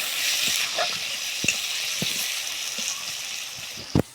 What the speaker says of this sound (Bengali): পেঁয়াজ কুচি, আমরা পেঁয়াজটা সুন্দর করে ভাজে নেব